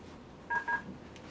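Two short telephone keypad tones dialed in quick succession on a teleconference line, faint under a low hum of room noise.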